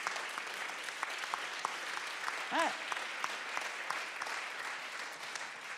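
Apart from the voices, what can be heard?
audience applauding Noémie de Lattre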